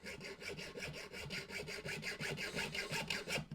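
An insulated hacksaw cuts by hand through material for staircase lighting, each push and pull stroke rasping in an even rhythm of about four strokes per second, close and clear with no voices.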